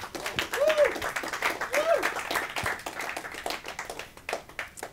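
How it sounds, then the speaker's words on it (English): A convention audience claps for a speaker walking up to present, scattered, moderately loud applause that fades over a few seconds while someone talks and whoops over it. "Give him a round of applause"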